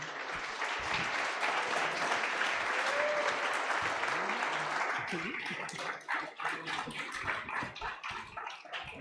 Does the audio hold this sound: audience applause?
yes